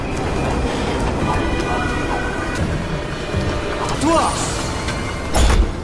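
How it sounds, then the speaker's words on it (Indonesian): A train rumbles steadily with a continuous roar and rattle, with brief tonal squeals and a sharper burst near the end. "Martin berhasil naik ke kereta dan lolos dari kejaran si pria misterius"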